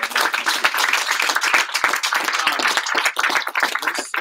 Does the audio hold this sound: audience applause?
yes